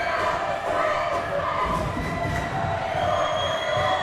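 A packed gym crowd roars at a high school basketball first-round playoff game, a continuous loud wash of cheering and shouting voices with no break.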